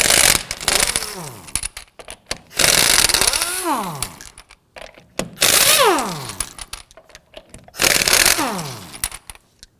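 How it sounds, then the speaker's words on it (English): Lug nuts on a 2008-2011 Ford Focus wheel are loosened with a 19mm socket: four loud, close bursts of a power tool whine, each dropping in pitch as it winds down, with short silent gaps between them. "Now we're going to use our 19mm socket to loosen and remove the lug nuts."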